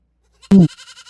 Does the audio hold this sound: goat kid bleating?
yes